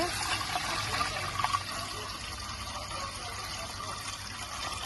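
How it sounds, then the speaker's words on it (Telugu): Water pours steadily into a metal idli steamer pot, a continuous splashing rush close by. "పాత్ర తీసుకున్నాం దానిలో వాటర్ పోసుకుంటున్నాం"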